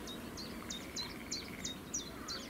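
A marsh warbler sings from deep within reeds, a faint, distant series of quick repeated chirping phrases over soft background noise.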